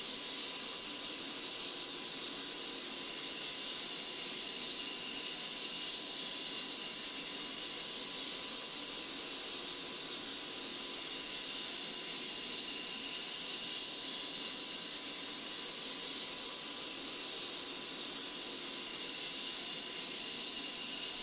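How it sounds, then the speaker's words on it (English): A jet engine starts and spools up in a flight simulator game, using bleed air from the APU, a faint steady hiss and whine that holds evenly with no talk. "As the engine spools up"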